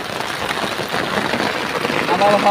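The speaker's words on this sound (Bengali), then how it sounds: "কঠিন বৃষ্টি" Dense, steady heavy rain hissing and pattering on a surface near a river, broadband and continuous throughout, with a faint tonal sound appearing near the end.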